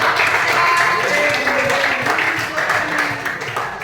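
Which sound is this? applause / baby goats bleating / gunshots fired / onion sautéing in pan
applause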